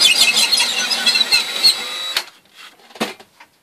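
A drill forces a sharpened threaded rod through an oven wall, giving a loud, close, harsh squealing grind that runs for about two seconds and then stops, followed by a few faint clunks.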